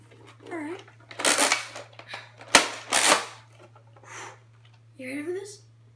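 A Nerf Rival Atlas toy blaster fires a single sharp, close crack, with voices and excited child-like chatter before and after.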